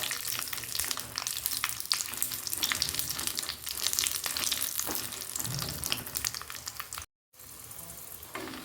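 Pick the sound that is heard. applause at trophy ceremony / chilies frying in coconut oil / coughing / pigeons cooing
chilies frying in coconut oil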